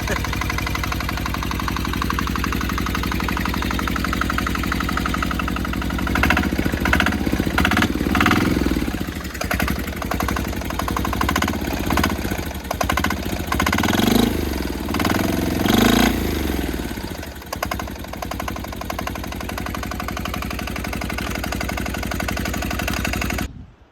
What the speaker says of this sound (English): let's see what we can get out of the turbo diesel now